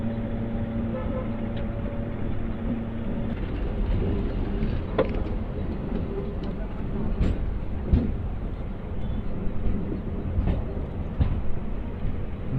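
A MEMU train travels from Nidadavolu to Bhimavaram Junction with a constant rolling rumble heard from on board, broken by occasional sharp clanks and rattles from the wheels and carriages.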